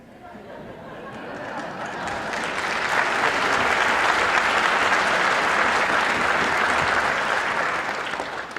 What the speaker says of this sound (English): I'm glad we hear that applause